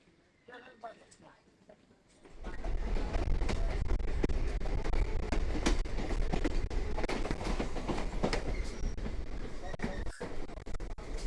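A Sealdah–Baruipur local train starts rumbling loudly on the tracks after a quiet opening, with a steady rattling clatter of wheels and a low, continuous roar.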